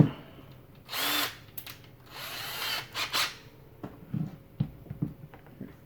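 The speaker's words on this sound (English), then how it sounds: "Drill a hole here." Short bursts of a power drill whirring as it drills a hole in a 1:4 scale figure, several brief runs with pauses between them, close by and fairly loud.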